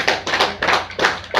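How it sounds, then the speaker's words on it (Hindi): Several bursts of hand clapping in quick groups, fairly close and loud, like a small crowd applauding at an RCM business meeting in a home. "एक बार इनके लिए जोरदार ताली बजाते हुए।"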